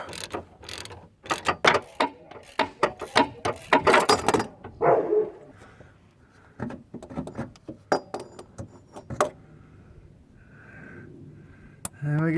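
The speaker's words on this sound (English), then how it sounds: "back on the 10 mil socket again." A ratchet turning a 10 mm socket on a bolt during a starter motor replacement on a Ford Fiesta Mk7 makes rapid, close, loud clicking bursts, broken by pauses and someone talking.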